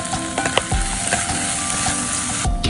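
Onion and tomato sizzle steadily while frying in a pan for paksiw, a continuous crackling hiss with occasional stirring clatter, close and alone.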